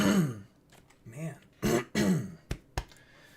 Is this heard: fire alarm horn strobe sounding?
no